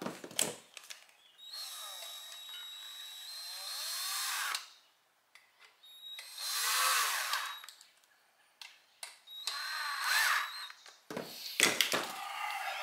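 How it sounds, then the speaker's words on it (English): A small power tool drives screws into the gauge housing of a 1968 Pontiac GTO in three bursts of whirring, each stopping and starting, separated by quiet pauses and a few light clicks and rattles. "Tighten the screws from the back, letting gravity do its job."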